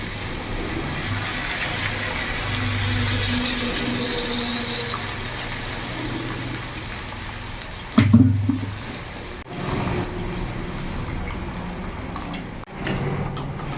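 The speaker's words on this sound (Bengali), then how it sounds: "এবার জল দিয়ে দেবো।" Water is poured into a pan of potatoes sautéed with spices on a gas stove, a brief splashing pour midway over a steady low kitchen hum, then quieter simmering noise.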